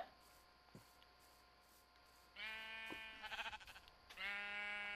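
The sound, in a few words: sheep bleating in a video game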